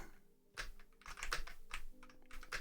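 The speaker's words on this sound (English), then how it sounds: "I'm pretty sure y'all can hear like every single one of my spacebar slams" Computer keyboard typing on a non-gasket-mounted board: a few quick clacking keystrokes and heavier spacebar slams, close and fairly quiet, with no talking.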